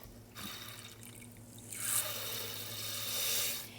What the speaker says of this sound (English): So you're going to use 1 cup of millet to 4 cups of water. You're going to add that to your pot.